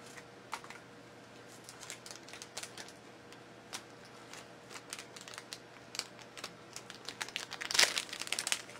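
Tape being peeled off a small black plastic stand for a Revoltech Miniature Evangelion figure, giving a run of quiet crinkling crackles and ticks with one sharper rip near the end, close and alone.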